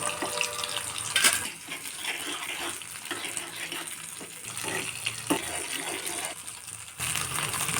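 Mustard seeds frying in oil, a continuous sizzling crackle with scattered pops, fairly close and steady throughout.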